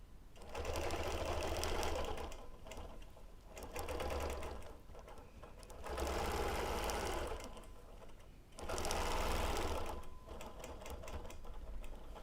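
A sewing machine doing free-motion ruler quilting runs in three loud bursts of rapid, rattling stitching, separated by quieter pauses with lighter mechanical whirring.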